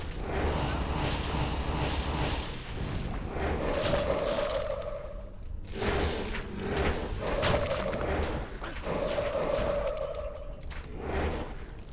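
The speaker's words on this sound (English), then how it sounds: "that's clearly the corpse explosion there" A corpse explosion goes off in a video game, heard as a few dull thumping bursts mixed with repeating game tones and a steady backdrop of game audio.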